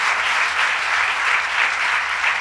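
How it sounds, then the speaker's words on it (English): Loud, continuous applause fills a legislative chamber, a dense even wash of many hands clapping without pause. "applause for Deborah Watch Glick."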